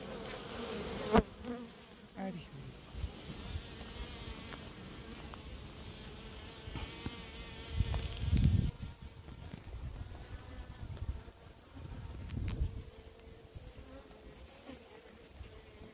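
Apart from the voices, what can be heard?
small black honey bees buzzing at a hive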